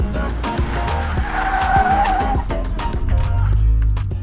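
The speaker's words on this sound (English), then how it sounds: "I was gonna see if I can track the donut a little better" Car tires screeching and skidding as a beginner drifts through donuts, with engine revving under sharp, wavering squeals that rise and fall in close succession, ending in a louder low engine roar.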